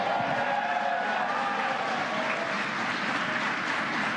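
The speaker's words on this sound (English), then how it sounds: "You can hear cheering here at SpaceX headquarters" Employees cheer and applaud at SpaceX headquarters around Mission Control during a Crew Dragon splashdown, a dense, steady wash of clapping and crowd noise throughout.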